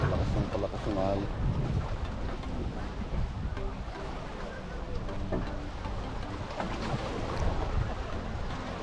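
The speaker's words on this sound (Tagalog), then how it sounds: "Palakas ng alon." Strong ocean waves in Busan, a loud continuous roar of surf mixed with gusty wind buffeting the microphone, while people talk intermittently nearby over the crashing water.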